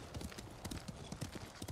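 Horse hooves clip-clop in the video game Ghost of Tsushima, a quick steady rhythm of soft close hoofbeats with faint background sound.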